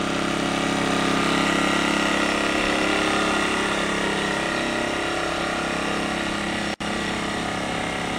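An Earthquake IG800W 800-watt inverter generator runs in economy mode from about two or three feet away, a steady loud engine drone with a faint low hum and one brief dropout near the end.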